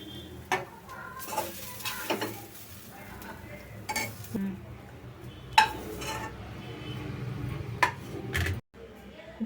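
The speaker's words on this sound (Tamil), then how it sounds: "இப்போ இதை நம்ம வேறு பிளேட்டில் ட்ரான்ஸ்ஃபர் பண்ணிக்கலாம்." Fried carrot scraped and lifted from a pan onto another plate for carrot kheer: sharp clinks and scrapes of a utensil against metal over a low, steady sizzle, with faint voices in the background.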